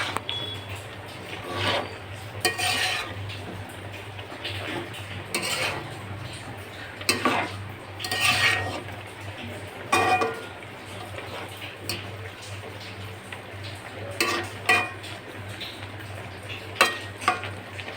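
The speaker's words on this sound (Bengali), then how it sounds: "আমি একটু নেড়ে দেব।" Vegetable curry with black cumin being stirred in a covered pan, scattered clinks and scrapes of a utensil against the metal, irregular and close, over a low steady hum.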